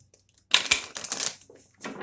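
A deck of tarot cards gets a quick riffling shuffle, a brief burst of crisp, close flicks and snaps lasting about a second, then a softer rustle in an otherwise quiet room.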